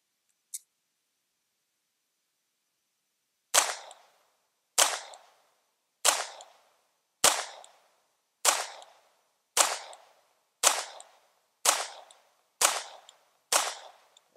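Walther P22 pistol fired at a shooting range: one early sharp crack, then after a pause ten evenly spaced loud shots about a second apart, each a crisp report with a brief decaying tail, no talking.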